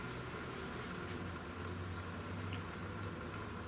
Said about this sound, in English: Here, coolant is draining.